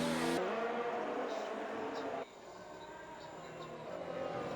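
A Ferrari race car engine screams down a straight in a racing video game, a steady high-pitched drone that dips slightly midway and then holds.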